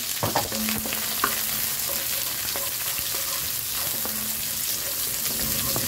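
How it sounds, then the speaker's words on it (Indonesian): Spice paste sizzles and fries in a wok. A steady hiss runs throughout, with scattered scrapes and taps from stirring and no voices. "ini biar kita goreng sampai wangi."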